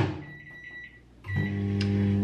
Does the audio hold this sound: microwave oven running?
yes